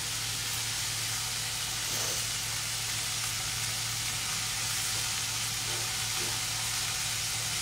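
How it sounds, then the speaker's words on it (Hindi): Vegetables sautéing in hot ghee before cauliflower goes in: a steady, close sizzle and hiss runs throughout, with a few faint stirring clicks and a low hum beneath. "तो इसीलिए हम इसे अलग से थोड़ा सॉटे करते हैं बिफोर वी एड द गोभी।"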